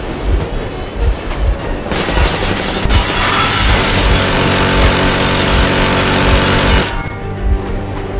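Soldiers fire warning gunfire in Metro Exodus, a loud, sustained burst of shots that roars for several seconds near a rumbling train, then cuts off abruptly.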